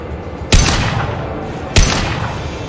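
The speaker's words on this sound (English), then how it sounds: "Spectacular explosion." Two loud, sharp explosions from the Mass Effect 2 Legendary Edition video game, about a second apart, each a sudden blast with a decaying rumble, with no talking.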